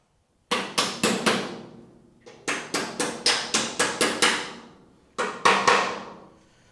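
A metal patch panel on a Model A Ford hot rod door is hammered in three quick bursts of sharp, ringing blows, each burst holding three to seven strikes, with short pauses between bursts.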